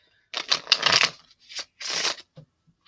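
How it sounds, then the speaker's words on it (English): Oracle cards from a Mystic Moon deck being shuffled by hand, two loud close riffling bursts followed by a few soft taps as the deck settles, no talking. "So we're going to shuffle up the Mystic Moon Twin Flame messages and the Mystic Moon Oracle cards."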